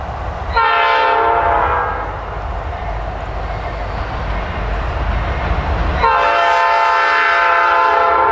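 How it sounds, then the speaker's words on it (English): A train passes near a historic cemetery in Derry Township, Hershey, Pennsylvania, with a loud rumble under two long horn blasts, one at the start and another near the end. "But we do have a train. Oh, there it is. You can see it coming through up there."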